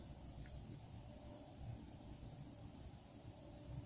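Faint, steady low rumble of distant car traffic carries across a quiet observation deck, a continuous far-off hum with no voices over it.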